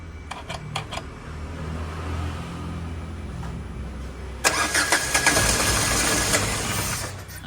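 The engine of a stalled car is cranked during a roadside fault check for a dead fuel pump, with a few clicks and a low rumble followed by a loud, steady whirring crank that never catches.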